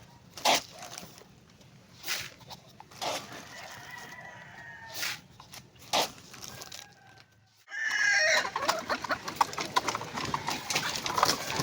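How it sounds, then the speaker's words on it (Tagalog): Leghorn chickens cluck and a rooster crows amid sharp knocking sounds, with a louder stretch of busy farmyard noise near the end. "So ito yung mga leghorns natin"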